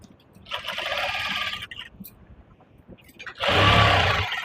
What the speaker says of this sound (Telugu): మళ్ళీ పైనుంచి ఇంకో స్టిచ్ వేసుకుందామండి